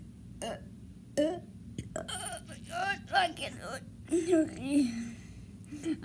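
Repeated burps during a home burping challenge, a few short guttural belches scattered through about six seconds, close and fairly loud, mixed with talking and vocal noises between them.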